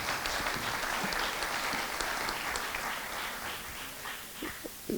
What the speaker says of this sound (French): on va les applaudir parce qu'ils reviennent de Las Vegas